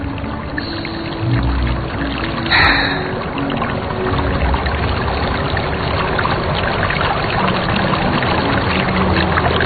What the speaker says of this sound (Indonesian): Terdengar suara air dari kejauhan.